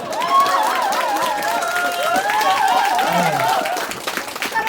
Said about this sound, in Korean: 자, 다시 들어왔습니다. 다시 한번 박수.